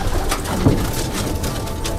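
Soft, low cooing of pigeons close by, murmuring over a busy background of rustling and faint bird sounds.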